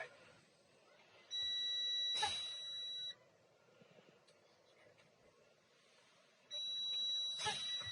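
A shrill electronic truck low air pressure warning tone sounds twice during an air brake test, each a sustained steady beep lasting about two seconds, with quiet mechanical background and brief clunks between.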